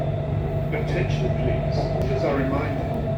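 A BTS Skytrain in Bangkok rumbles steadily along the track, with a constant low drone heard from inside the carriage while a person talks over it.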